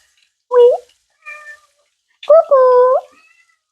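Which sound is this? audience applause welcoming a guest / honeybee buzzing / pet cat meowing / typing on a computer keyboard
pet cat meowing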